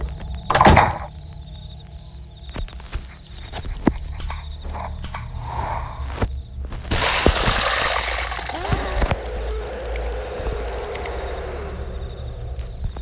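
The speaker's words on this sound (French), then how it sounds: "Ok, on va réouvrir la porte" A door reopens in the horror game Residanse Massacre: a sharp thunk, then scattered knocks and a long scraping, rustling movement, set against a steady background hum.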